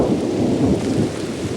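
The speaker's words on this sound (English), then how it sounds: "Suddenly, we heard approaching thunder." Thunder rolls in a deep, loud, steady rumble while gentle rain patters beneath it, one continuous storm wash with no voices.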